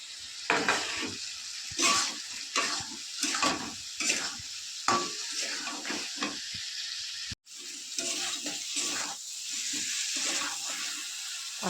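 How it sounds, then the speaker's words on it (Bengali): Spice paste with potatoes sautéing in a pan with a little water, a close sizzle overlaid by repeated scraping stirs in an irregular rhythm, briefly cut off midway before the frying resumes. "দিয়ে মশলাটাকে ভালো করে কষিয়ে নেব"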